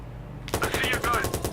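Automatic gunfire in the video game Watch Dogs, a fast rattling burst of rapid shots starting abruptly and running steadily to the end, loud and close.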